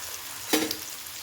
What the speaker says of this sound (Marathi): छानसं परतून घ्या